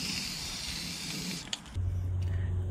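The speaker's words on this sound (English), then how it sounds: "I figured out I could just use my paint scraper and still make it spray" Aerosol spray paint can triggered with a paint scraper during rusty hole repair, a steady close hiss for about a second and a half, then it cuts off and a low hum takes over.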